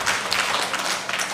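Audience clapping at a gathering addressed by a bishop, a short burst of dense, steady applause.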